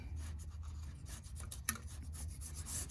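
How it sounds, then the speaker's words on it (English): A razor blade scrapes old gasket residue off an engine part from a 2016 Dodge Charger R/T 5.7 during a water pump job, making a close, quiet, repeated rasping with one sharper click partway through. "Now I'm just gonna take a razor blade and scrape off that residue."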